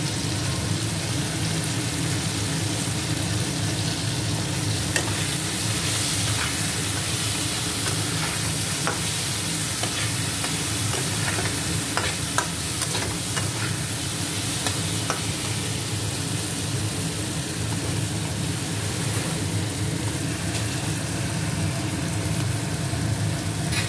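Vegetables frying with turmeric in a pan, with a continuous close sizzle and frequent scraping and stirring strokes of a spatula, steady and unbroken throughout.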